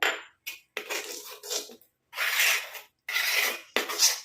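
Rice starch water hair paste is stirred in a bowl, giving close, loud bursts of rasping, scraping strokes with short pauses between them and no voices.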